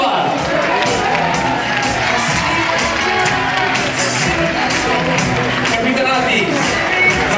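An audience greets a Kizomba beginners' dance class with loud applause, cheering and whoops, a dense crowd roar that stays close and full throughout with shouts rising above it.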